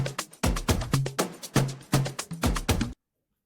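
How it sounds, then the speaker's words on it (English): A top loop percussion sample for an Afro house track plays alone, a syncopated pattern of crisp clicky hits with a low thump and short tonal accents, looping for about three seconds before cutting off. "and I also added the top loop."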